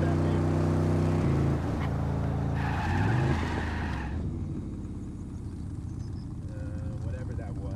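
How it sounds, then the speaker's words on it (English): A vehicle drives close by, its engine rumble and tire noise loud at first and then easing off, with a brief screech partway through and voices talking over it. "what's the deal with that vehicle?"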